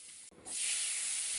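Chopped onions frying in a pan over medium heat while making Indori poha, a steady loud hiss that starts after a brief dip and holds close and continuous.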